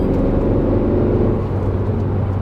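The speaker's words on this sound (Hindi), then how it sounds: "ये है 4 सिलेंडर इंजन, और जिस हिसाब से आवाज़ करता है उस हिसाब से पुल भी करता है" A four-cylinder engine in a compact SUV revs steadily and loudly up close, a continuous low throbbing drone with no talk over it.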